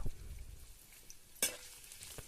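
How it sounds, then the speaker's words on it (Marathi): Chopped onion frying in oil in a kadhai for a dry soybean vegetable dish, a quiet, soft sizzle broken by one sharp utensil clink midway. "आता कांदा घेऊ आपण कढईमध्ये टाकून"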